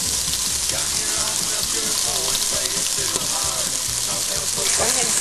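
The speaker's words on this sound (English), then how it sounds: "And we're going to add about a teaspoon of onion, but be careful not to let this pop off." A spoonful of onion fries in a pan over medium heat, giving a continuous close, crackling sizzle with stirring clatter and a voice speaking faintly underneath.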